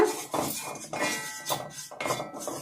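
Hair dye powder being roasted and stirred continuously in a pan, giving rhythmic metallic scraping and clinking strokes that repeat about every half second, close and moderately loud with no voices.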